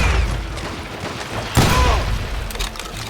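Gunshots ring out in an Old West town street in Call of Juarez Gunslinger, a loud sharp volley bursting midway over a steady rumble of game ambience.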